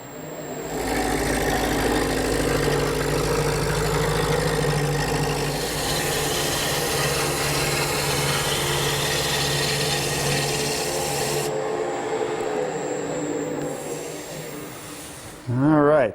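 A gouge rounds a spinning wood workpiece on a lathe for a corner chair, making a loud, close, continuous rasping cut that holds steady for many seconds before a brief change at the end.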